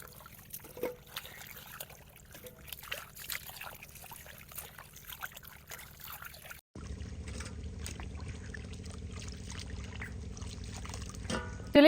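Carrots are washed by hand in water, producing soft trickling, dribbling and light splashing that runs steadily at a moderate level, then turns into a denser, louder wash of water partway through.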